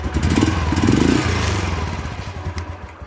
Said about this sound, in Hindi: एक बार आपको मैं स्टॉक साउंड सुना देता हूँ तो ऐसा कुछ इसका स्टॉक साउंड है